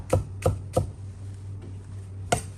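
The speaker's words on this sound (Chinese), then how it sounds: "再准备1小块生姜切成薄片，大蒜同样切片，大葱切成小段" A knife chops sliced ginger, garlic and scallion segments on a cutting board: three quick, crisp strikes, a pause, then a fourth, close and distinct over a steady low hum.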